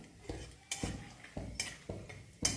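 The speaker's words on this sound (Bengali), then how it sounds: "এই বাদামটা একটু ভেজে নিই" Peanuts are fried and stirred in a pan, heard as a series of quick scraping, clattering strokes roughly every half second over a faint sizzle, close and fairly quiet, with no speech.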